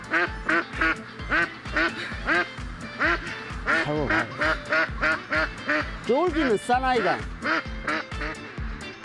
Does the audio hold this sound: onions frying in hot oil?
no